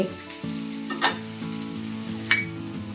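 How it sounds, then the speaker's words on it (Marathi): A spoon stirs cashews, peas, corn kernels and soybean chunks in a hot pan for pulao, with a soft steady sizzle, a couple of sharp metallic clinks against the pan, and faint background music. "आणि हे सगळं आता याच्यामध्ये ढवळून घ्यायचं"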